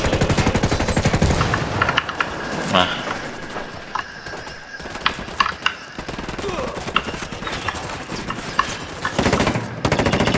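Rapid bursts of video game gunfire from Ghost Recon Wildlands crackle almost continuously, loud and close, mixed with excited voices talking over the shooting.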